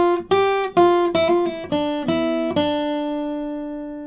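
A clean acoustic guitar picks a short fill, using hammer-ons and pull-offs. It plays a quick run of plucked notes, then one last note rings and fades, played solo and close.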